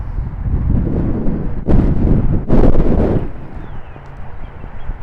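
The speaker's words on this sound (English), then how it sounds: "Sorry about the wind" Wind buffeting an outdoor microphone in a Catholic cemetery, a constant low rumble with two sharp louder gusts near the middle, no talk heard.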